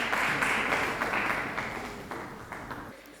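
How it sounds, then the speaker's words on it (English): Audience applause for a volunteer at a creative industry conference, a full round of clapping that starts strong and slowly fades away, with no talking. "A round of applause for her."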